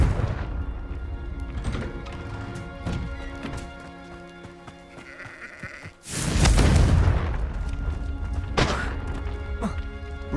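A Confringo blasting spell explosion from the Hogwarts Legacy video game, a sudden heavy boom and crash midway through the clip, loud against quieter game sounds and scattered hits.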